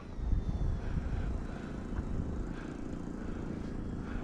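An OMP Hobby S720 RC airplane flies nearby, its motor giving a steady, continuous droning whine at moderate loudness.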